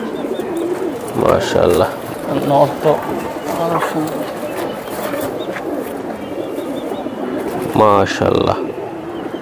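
Giribaz pigeons, silver giribaz among them, coo in bursts of throaty, rolling calls close by at a pigeon sale, while people talk over and between the cooing.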